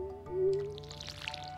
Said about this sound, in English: There we go, we'll water them a little.